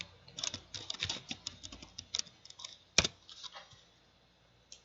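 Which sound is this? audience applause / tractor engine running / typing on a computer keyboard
typing on a computer keyboard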